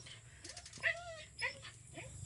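A dog whimpers in short, thin rising whines, a few separate cries over about two seconds, faint against a low background hum.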